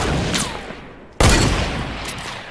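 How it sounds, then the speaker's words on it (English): A Fortnite sniper rifle fires once, a sudden loud crack that cuts in abruptly and rolls off in a long echoing tail, with fainter game noise before it. "He's trying to snipe me."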